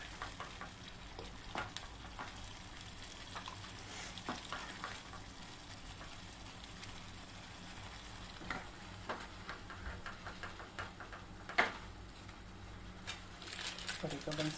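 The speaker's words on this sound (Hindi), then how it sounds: "अब हमें इसे अच्छे से कुक करना है ऑयल सेपरेट होने तक।" Homemade tomato puree cooking in oil in a pan, a soft steady sizzle with occasional stirring scrapes running throughout, while someone talks over it.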